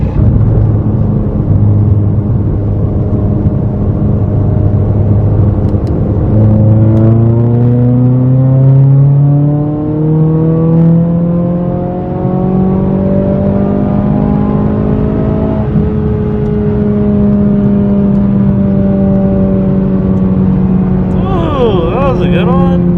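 A turbocharged car running 23 psi of boost accelerates hard, its engine note climbing steadily through the revs in a loud, close, sustained pull with a brief shift near the end.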